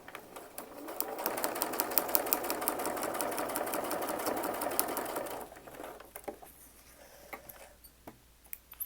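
A sewing machine stitches a final piece into a quilt block, a fast steady mechanical whirr running about five seconds, then stopping and giving way to quieter clicks and handling.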